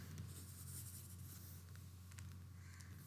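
Pen or marker writing an equation, soft continuous scratching strokes close by over a low steady hum.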